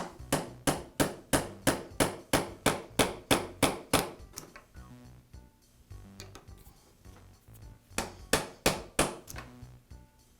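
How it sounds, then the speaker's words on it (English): A roll pin is tapped through with the jaws of a metal vise while repairing the angle stay of a Makita belt sander. About a dozen sharp, evenly paced hammer-like knocks come first, then a pause, then a shorter run of strikes, all close and loud. "I'll use the jaws to tap the roll pin the rest of the way through."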